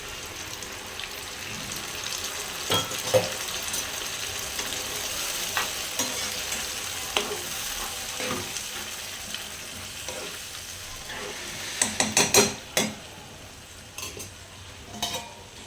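Onion and tomato puree frying in a pan, a steady sizzle with repeated spoon stirs and scrapes, louder clustered knocks near the end, close with no talking.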